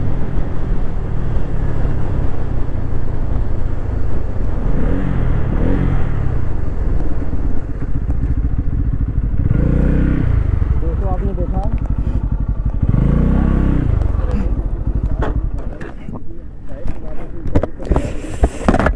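Bajaj Pulsar N160 and N250 motorcycles in a road drag race, engines droning loudly and rising in pitch through repeated gear changes as they accelerate, heard close with wind noise.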